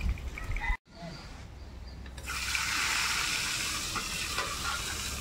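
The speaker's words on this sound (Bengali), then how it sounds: "মাছ হালকা করে ভেজে নিচ্ছি" Pabda fish frying in hot oil, a steady broad sizzle that swells and holds loud and close, with occasional crackles and faint talk early on.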